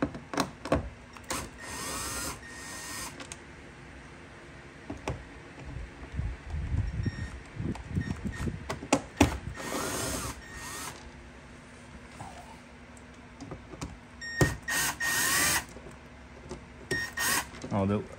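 Torx T15 screws are backed out of a Mercedes CLS 63 daytime running light with a tape-tipped bit, giving close, intermittent metallic clicks, scrapes and ratcheting bursts while a person talks over much of it.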